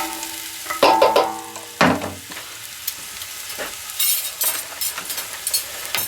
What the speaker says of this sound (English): now that the oil's heated up, we're going to add our diced onion.